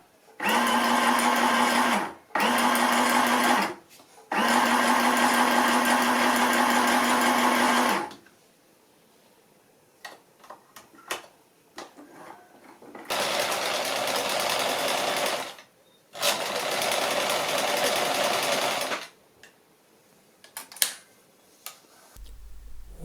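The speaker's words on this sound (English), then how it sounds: "The sound a machine makes may also be part of your choice." Three sewing machines run in turn, a toy machine, a Bernina and a Vaf, each a steady whirring motor burst lasting a few seconds, with quiet clicks and handling noise between runs.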